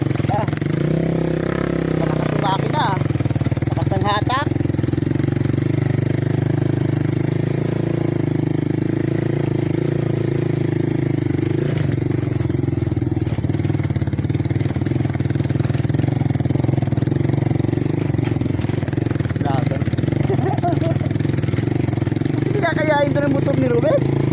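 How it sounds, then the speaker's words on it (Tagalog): A motorcycle labors up a rough mountain trail toward Mt. Labo, its engine droning steadily in the low-mid range and straining throughout, with a person talking over it at times. "nahihirapan siya talaga dito. Buti gantong motor lang oh."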